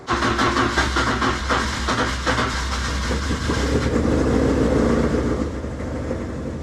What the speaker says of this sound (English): So let's fire it up and see what we get.